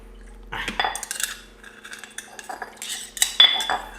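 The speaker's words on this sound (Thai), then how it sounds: "จากนั้นนะครับเราจะเติมน้ำลงไปนิดนึงทำน้ำล้างครกนะครับ" Water added to a mortar holding coarse curry paste, then a pestle scraping and clinking around the bowl in two short bursts, close and fairly loud, with quiet gaps between.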